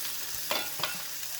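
Sabudana thalipeeth frying in ghee on a covered pan over low flame, a soft continuous sizzle with a couple of brief scraping clatters, quiet and close.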